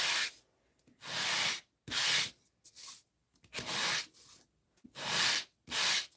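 Raised areas of a surface being sanded by hand in six or seven loud, close, rasping strokes, each lasting about half a second with brief silences between.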